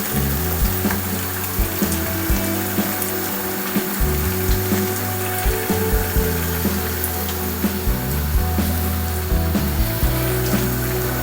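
Ketchup and flour for goulash fry loudly in a pan, a dense continuous sizzle broken by regular scraping strokes as the mixture is stirred, with no talking.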